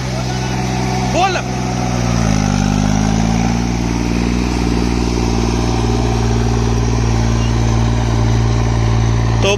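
A tractor engine pulling a harrow in first high gear at full RPM, a loud, steady, close drone that climbs in pitch early on and then holds, with someone talking over it.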